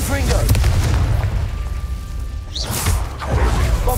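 Explosive spell blast in the Hogwarts Legacy video game, deep booming bursts with rumbling low end and sharp crackling pops, loud and close, repeating over a few seconds amid game combat noise.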